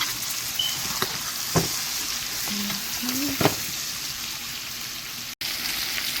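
A T-bone steak sizzles steadily in a pan as it is turned back and forth, giving a continuous close frying hiss broken by a few sharp clicks and scrapes of the meat being moved.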